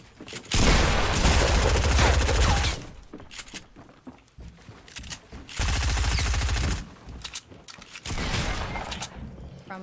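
Gunfire in a Fortnite battle royale match arrives in two long, loud bursts of rapid shots, separated by quieter stretches with scattered impacts.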